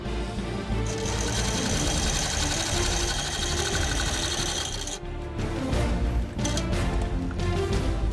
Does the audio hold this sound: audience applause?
no